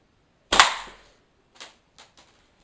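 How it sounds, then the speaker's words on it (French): A plastic airsoft pellet fired from a slingshot gives one sharp, fairly loud snap and its short decay, followed by three faint, brief knocks farther off, with no talking. "Et là, je tire bille airsoft là."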